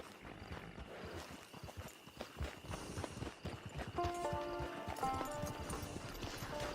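Horses trot with rhythmic hoof clip-clops on the ground, moderately close and fairly quiet, while a faint tonal sound rises in the background partway through.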